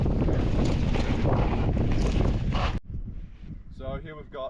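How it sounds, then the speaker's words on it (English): Heavy wind buffets the microphone in loud, continuous low rumbling gusts on an open hillside by a mountain bike gap jump, cutting off abruptly partway through, after which quieter ambient sound and a voice follow. "It's a little bit windy."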